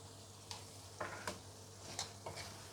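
Dried puti fish chepa frying gently in a pan over low heat, a soft steady sizzle broken by a few sharp scraping stirs spaced through the stretch, with a low hum underneath.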